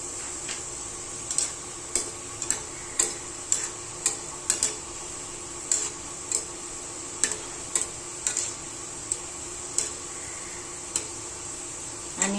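Shankarpali fry in a pan with a steady, quiet sizzle, while a spoon taps the metal in sharp, evenly spaced clicks roughly every second throughout.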